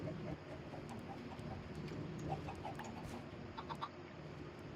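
Minecraft chickens clucking in a steady, busy murmur of soft repeated clucks over a constant background hum, fairly close and evenly loud throughout.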